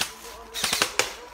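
Airsoft guns fire during an outdoor survival game, a few sharp broadband cracks at irregular intervals over a steady background hiss, moderately close.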